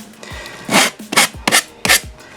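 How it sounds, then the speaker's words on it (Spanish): Four rhythmic rasping strokes of sandpaper scrub against the edges of a wooden wine crate, held at a 45-degree angle, each a short loud scratchy burst with brief pauses between. "lo primero que voy a hacer va a ser lijar y quitar estos bordes"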